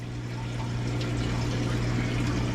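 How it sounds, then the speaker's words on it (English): A Maytag top-load washer drains during a quick wash cycle: a steady, close pump hum with rushing, gurgling water running continuously and evenly, with no talking. "So we went from fill and soak to a wash cycle. It's draining out now."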